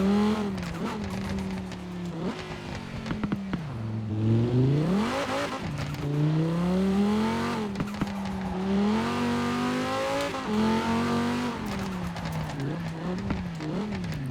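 Cyberpunk 2077 car in Forza Horizon 4, a rear-engined racing game car, revving hard with rising and falling engine pitch through gear shifts, tires squealing and skidding throughout a continuous drive.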